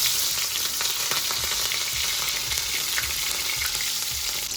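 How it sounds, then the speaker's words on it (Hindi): Green chilies and cumin seeds fry in hot oil, making a dense, loud, close crackling sizzle that continues evenly throughout, with small pops scattered through the hiss. "एबे कंचा लंका पकईवा।"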